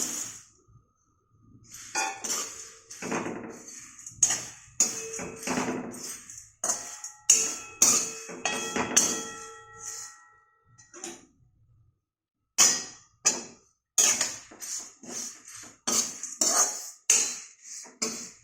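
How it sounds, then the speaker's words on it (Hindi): Poha being added to a hot kadhai and stirred, with a close series of bright metallic clinks and scrapes from a spoon against the pan, coming in uneven bursts separated by short pauses. "अब ये मैं पोहा डाल देती हूँ।"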